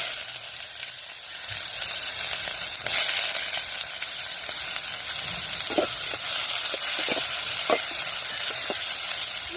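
Mustard seeds, urad dal and chopped large onions frying in hot oil for a crab gravy, with a steady broad sizzle and occasional sharp pops and crackles from the seeds throughout, close and fairly loud, with no voices.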